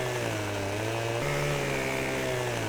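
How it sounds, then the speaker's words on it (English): A chainsaw in Farming Simulator cuts wood, its engine holding a steady buzzing whine that rises slightly in pitch partway through, close and continuous with no talking. "does this chainsaw sound different to all the other makes which are on Farming Simulator?"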